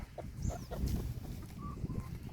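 Chickens clucking close by in a farmyard while dust-bathing in soil, soft irregular clucks and short calls with a few higher squawks over quiet outdoor background.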